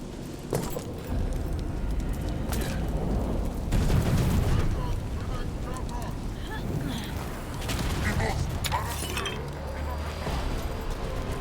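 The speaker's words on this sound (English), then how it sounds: "Cannon fire! Get clear!" Cannon fire booms in the video game Dragon Age The Veilguard, heavy blasts and rumbling impacts landing in several bursts over a continuous battle din, with voices speaking amid the chaos.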